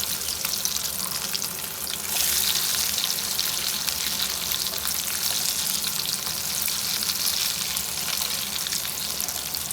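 Beef kebabs frying in a pan at home, a steady, loud broadband sizzle of hot oil with a brief stirring or turning disturbance partway through, no voices.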